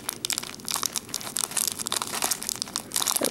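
Plastic bag crinkling steadily while beads are poured out of it, a busy close-up rustle and crackle with no talk.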